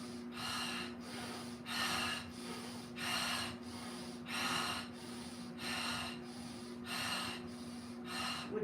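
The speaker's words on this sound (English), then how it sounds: "You can inhale with the nose and exhale with the mouth." Vigorous rhythmic breathing during an exercise, sharp nasal inhales alternating with forceful mouth exhales, about eight even cycles, close and clear with a steady low hum underneath.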